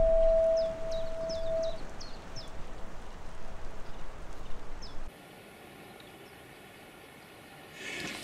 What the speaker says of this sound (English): Can hear the alarm or the horn or siren going off.